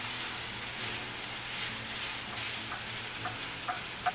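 Vegetables frying in a pan hiss steadily while being stirred, with soft scraping and a couple of small knocks near the end; close, fairly quiet, no talking.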